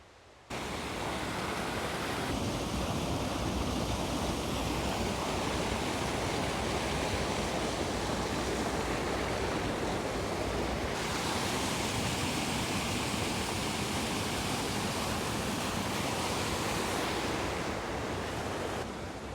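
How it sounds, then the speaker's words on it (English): Rainwater runs everywhere over the ground and a creek flows after heavy rain, making a steady, dense, full-band rushing roar that holds constant and fairly loud throughout. "It's not every day we have this much water running all over the place."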